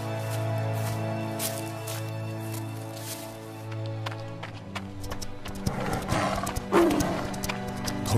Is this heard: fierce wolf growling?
yes